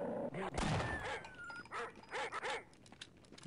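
Hostile dogs barking in the video game They Hunger, a few rhythmic barks and yips in quick succession amid game sounds, with a voice talking briefly.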